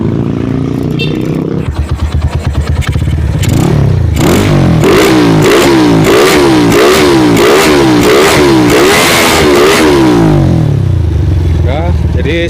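A Honda GL125 motorcycle engine bored out to 230cc, fitted with a PE28 carburetor, idles and then revs loudly and close in a quick series of rhythmic throttle blips before settling back to a rough idle.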